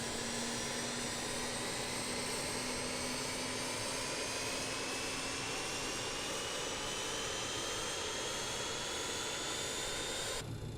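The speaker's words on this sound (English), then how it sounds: "All right, we can start the next engine." A BAe-146 jet engine in Microsoft Flight Simulator 2020 runs with a steady, loud whine and roar, its pitch sliding slowly upward as it spools, continuous and alone until a brief change at the end.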